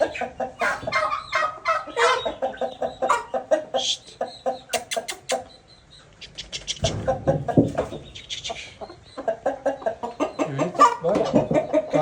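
Repeated rooster clucks and squawks, close and loud, in uneven bursts with a brief quieter lull midway.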